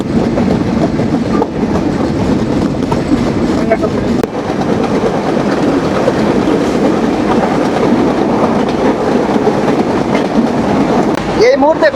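The Kapotaksha Express, running from Khulna to Rajshahi at about 90 km/h, gives a steady loud rumble and rattle of carriages from on board, constant for the whole stretch, with a faint murmur of voices beneath.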